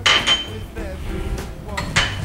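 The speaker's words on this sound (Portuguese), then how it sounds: "A tampa do liquidificador." A plastic blender lid is handled in a kitchen while making popsicles, giving several sharp clinks and knocks separated by brief pauses, close and fairly loud.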